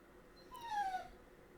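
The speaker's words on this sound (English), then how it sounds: "This dog is such a drama queen" A dog whimpers once, a short, thin, falling whine lasting under a second over quiet room tone, fairly faint and alone.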